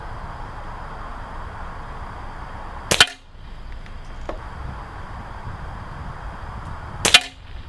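Two sharp air rifle shots firing iHunter pellets at a target, spaced about four seconds apart, each a crisp close crack standing out over a steady background hiss with no talking.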